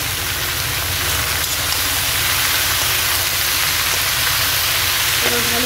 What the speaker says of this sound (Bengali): এবার ভালো করে ভাজা করে নিচ্ছি এগুলোকে।